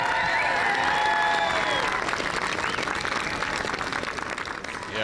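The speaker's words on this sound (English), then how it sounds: "Ladies and gentlemen, give him a huge cheer." A large crowd at a World's Strongest Man strongman event cheers and applauds loudly and steadily, the roar holding at full strength before easing slightly toward the end.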